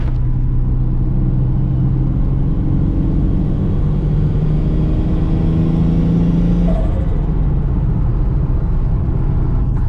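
Nissan S13 with an RB20DET engine driving, a loud, steady low engine drone with rising and falling harmonic tones as it revs through the gears, continuous road rumble and no talking.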